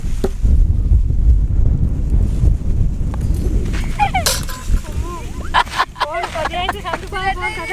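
Strong wind buffets the microphone on a cricket ground while camping, a heavy, rumbling roar, easing slightly as voices and a few other animal-like sounds come in near the end.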